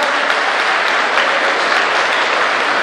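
Loud, sustained audience applause at a Bhagwat Katha gathering in a temple, dense continuous clapping close by with no voices over it.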